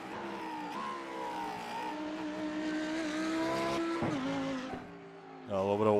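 Race car in iRacing at Imola braking then getting back on the throttle, a steady engine whine shifting pitch, a dip as it slows, then a rising rev near the end, with commentary over it.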